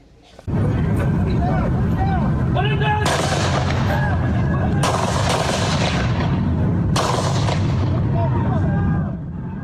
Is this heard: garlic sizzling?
no